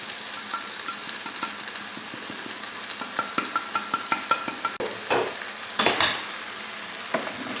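Chicken escalopes, peppers, parsley, coriander and spices frying in a pan over low to medium heat, with a constant crackling sizzle and a run of quick spoon scrapes and taps as the mixture is stirred, close and clear.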